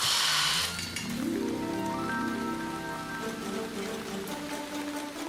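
Steady rain falls outdoors in a continuous, even hiss, with a tonal rising sweep of background music layered over it.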